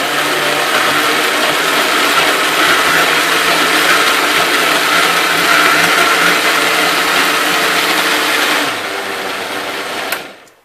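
A commercial blender whirs at a steady high pitch as it mixes gluten-free, dairy-free orange almond chocolate cake batter, then winds down and cuts off near the end, with no voices.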